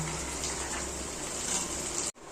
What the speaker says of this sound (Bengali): মশলাটা কষানো হয়ে গেলে এভাবে জল দিয়ে দিতে হবে